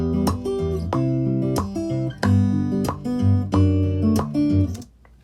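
A clean, unprocessed electric guitar picks a bright, plucky riff of single notes and short chords, close and dry, ending in a brief fade.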